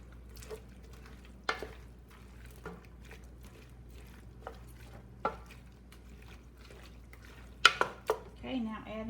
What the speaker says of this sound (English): give that a stir with my wooden spoon